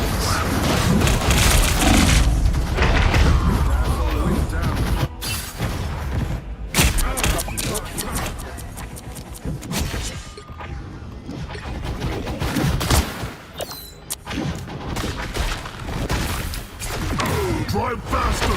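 Smoke screen and heavy rounds gunfire in the video game Marvel Rivals come as dense, loud bursts of shots, booms and crashing impacts, thick at the start and then coming in sporadic volleys, with voices over the action.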